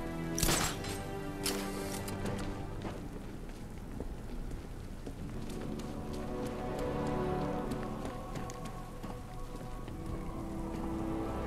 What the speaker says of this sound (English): it looks like we're going to be running around in the rain